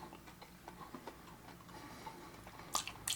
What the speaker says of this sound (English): It's crunchy with that breading.